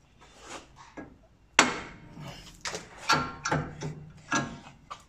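A hammer strikes the hub carrier of a Land Rover Discovery 2 to break its taper, landing several sharp, close metallic blows at irregular intervals with scrapes and handling noise between them.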